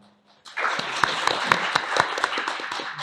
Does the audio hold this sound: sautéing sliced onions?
no